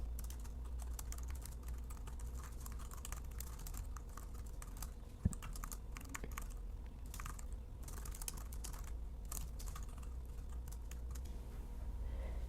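Fingers tap out a prompt on a computer keyboard in a quiet room, a soft continuous patter of keystrokes with one sharper clack midway, faint and steady, with no voices.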